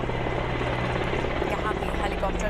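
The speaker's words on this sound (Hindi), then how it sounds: "यहाँ भी हेलीकॉप्टर द्वारा पुष्प वर्षा की जाएगी।" Helicopter showering flower petals in a salute to coronavirus warriors in Ahmedabad, its rotor and engine a steady, loud roar held throughout, with voices faintly mixed beneath.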